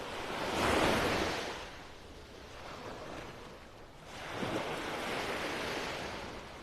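Gentle ocean waves wash in slow swells, rising and falling twice over a constant soft rush, with light wind in the background, at a beach in North Naples, Florida.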